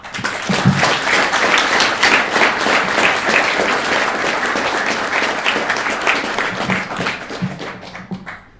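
A conference audience applauds warmly to welcome a speaker to the stage, dense steady clapping filling the room for several seconds before tapering off at the end.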